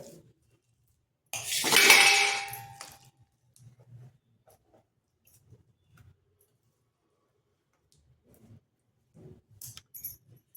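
A spoon works a hot dry fruit chikki mixture just lifted off the stove in a short, loud burst of scraping and clinking against the pan, followed by near silence with only faint, scattered knocks.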